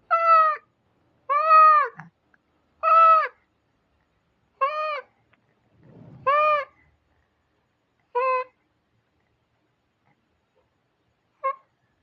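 A cat meows repeatedly, about seven clear close calls spaced a second or two apart, the last one faint, with quiet gaps between.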